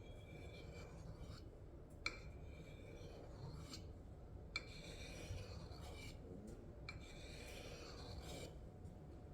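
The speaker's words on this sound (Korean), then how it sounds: "그 사포 대신에 숫돌을 이용한다" A steady rasping scrape of a hook knife stroked back and forth on a whetstone, with regular strokes and faint clicks, fairly quiet and unhurried.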